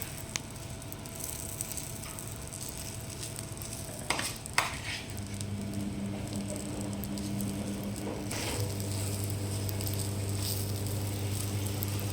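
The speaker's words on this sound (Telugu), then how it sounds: "దోశ వేసి దాని మీద అది స్ప్రెడ్ చేయడమే" Dosa batter sizzling and pattering steadily on a hot griddle as it is spread thin, with a couple of light metallic scrapes from the ladle and no talking.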